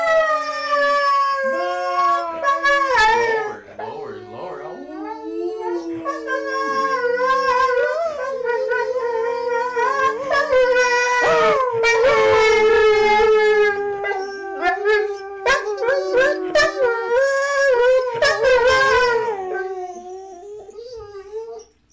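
Dogs howling together in long, rising and falling wails with whimpers and yips mixed in, loud and close, sustained across the stretch before trailing off.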